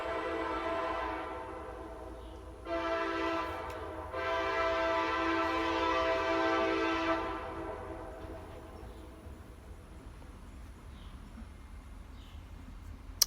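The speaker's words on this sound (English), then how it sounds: "this train." A train rumbles past as its horn sounds in two long, steady blasts, the second held longer, then the rolling noise fades to a distant hum.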